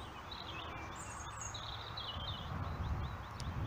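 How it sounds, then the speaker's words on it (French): Small birds sing outdoors with quick, high, faint warbling phrases over a soft background hush. "Le son des oiseaux, le chant des oiseaux m'accompagne."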